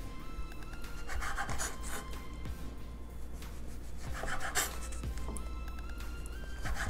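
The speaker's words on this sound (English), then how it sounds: "now we're just gonna cut the crust" Knife sawing the crust off a slice of bread, quiet close rasping strokes in a few short bursts over a low steady background hum.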